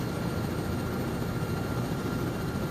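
A military helicopter in the ArmA 3 game drones loudly and steadily from inside the cabin, a constant rotor and engine roar with no pauses or speech.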